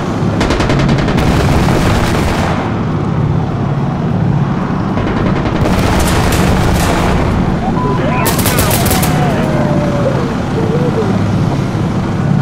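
Rocket launch and blast during a match of the shooter game Insurgency, heard as loud, dense gunfire bursts and heavy booms filling the whole stretch, with a whistling streak rising and falling near the end.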